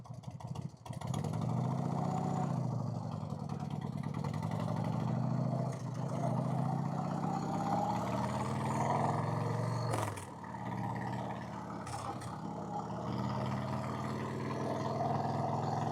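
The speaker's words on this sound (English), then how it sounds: "A lot of the rattling you hear is probably the ghetto rear or front exhaust pipe bracket" A 1990 Harley-Davidson Fat Boy engine with an S&S Super E carburetor runs steadily up close for a long stretch, with a constant metallic rattle from a loose exhaust pipe bracket over the exhaust note and brief dips in revs.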